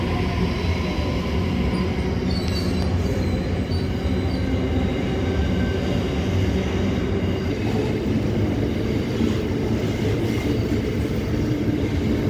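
A Sydney Waratah A set electric train pulls out of platform 3 at Denistone, a steady loud rumble of wheels and motors with faint squeals and rail clatter throughout, close by.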